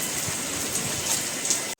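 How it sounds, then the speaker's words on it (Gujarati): Steady rain hisses and patters outside, a dense continuous wash of falling water with no voices, cutting off abruptly at the end. "બહાર તો સરસ મજાનો વરસાદ ચાલુ છે"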